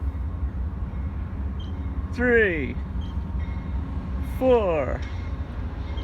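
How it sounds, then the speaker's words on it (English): Amtrak passenger cars roll past near Glenwood Springs, Colorado, making a continuous nearby rumble of wheels on rails while a man counts aloud over the noise. "there comes a train."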